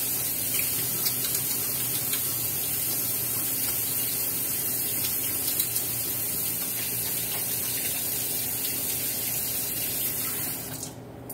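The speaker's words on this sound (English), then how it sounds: "So let's go ahead and wash our hands again." Tap water running steadily into a bathroom sink during hand washing, a continuous hissing splash that stays even and close for the whole stretch before easing off at the very end, with no speech.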